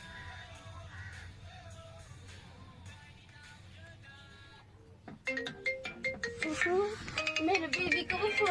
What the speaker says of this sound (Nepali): मेरो बेबीको पो फोन आयो